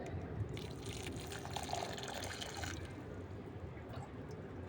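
Quiet, steady trickle and splash of water poured onto the soil of a potted rose plant, a soft continuous flow lasting a few seconds.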